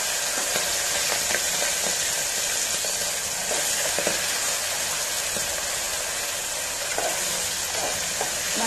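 Green peas dropped into hot oil with lightly browned cashews sizzle loudly and steadily in a pan, a dense continuous hiss broken by occasional soft clicks from stirring.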